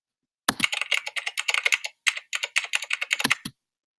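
Rapid keyboard typing effect, a dense run of crisp clicky keystrokes in two bursts separated by a short pause, close and clean with no voices.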